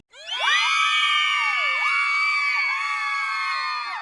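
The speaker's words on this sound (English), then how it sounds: "we'll just insert some crowd noise" A loud crowd cheer erupts after a brief rise and holds steady for about four seconds, dense with overlapping shouts, whoops and high screams, with no single voice standing out.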